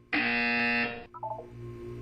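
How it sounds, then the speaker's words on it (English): A loud harsh electronic buzzer from the Portal 2 test chamber sounds once for just under a second, then cuts off, leaving faint mechanical clicks and a low hum. "You will hear a buzzer. When you hear the buzzer, look up at the ceiling."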